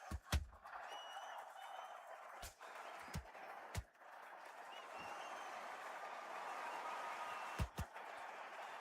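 A boxing arena crowd buzzes with a steady murmur and scattered clapping, broken by a few sharp thumps and claps standing out above the continuous crowd noise.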